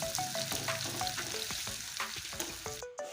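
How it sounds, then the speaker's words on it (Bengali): Onions fry in hot oil in a pan until reddish, a steady close sizzle broken by repeated scraping stirs of a spatula. "পেঁয়াজটা আমি লাল করে ভেজে নেব এখন"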